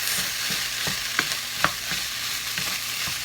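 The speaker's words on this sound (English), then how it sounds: "now we wait for the potatoes and onions to cook" Potatoes and onions fry in a pan with a steady close sizzle, punctuated by regular light knocks and scrapes as they are stirred.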